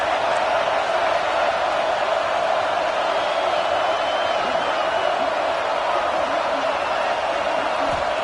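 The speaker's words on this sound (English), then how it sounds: "Home crowd trying to make a difference on 4th down." A home football crowd roars and cheers on a late-game fourth down in Arkansas, a dense, steady wall of stadium noise sustained throughout with no break.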